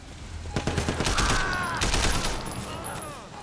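An assault rifle fires rapid bursts in the video game Sleeping Dogs, loud crackling volleys that run for a few seconds before tapering off, with a voice talking underneath.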